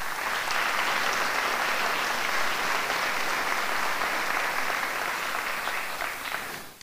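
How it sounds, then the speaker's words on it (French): Steady applause from an audience at a town mayor's New Year greetings ceremony in Luçon, fairly distant and even, continuing for several seconds before tapering off. "Je crois qu'on peut l'applaudir, Anthony."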